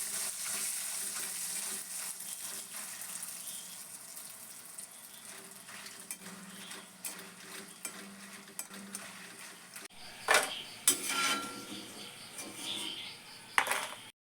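Jackfruit chips fry in oil with turmeric and salt, giving a steady soft sizzle. Near the end come a few louder clinks and scrapes of a utensil against the pan.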